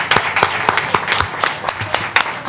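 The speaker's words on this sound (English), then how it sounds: "a round of applause." Scattered applause at a school board meeting: a small group clapping with distinct, irregular claps rather than a dense roar, fairly close and moderate in level.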